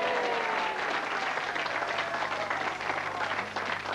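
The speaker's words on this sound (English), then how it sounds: "Round of applause for Gus" An audience at a television awards opening show gives a sustained round of applause, loud and dense clapping that holds steady for the whole stretch with no speech over it.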